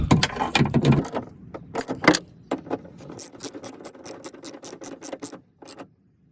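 A wrench or ratchet works the bolts on a 1996 Toyota T100 exterior door handle, giving a rapid series of crisp metallic clicks and rattles that start in a cluster and then settle into a quicker, steady ratcheting rhythm with no talking.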